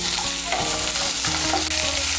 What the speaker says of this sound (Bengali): তেলটা গরম হলে এর মধ্যে আমি দিয়ে দেব 2 বড় সাইজের পেঁয়াজ কুচি